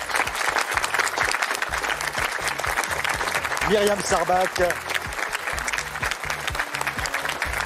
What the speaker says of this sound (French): Je voudrais qu'on applaudisse les candidats